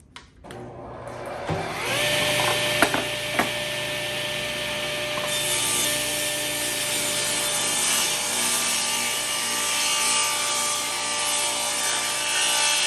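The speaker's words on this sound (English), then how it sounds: "So we're going to cut 2 strips from the leftover piece from the beginning, a 1 1/4 and then a 2 1/2 inch piece." A power saw spins up and cuts strips from a leftover wood piece for a sled fence, a loud sustained whine with steady blade noise through the cut, no talking.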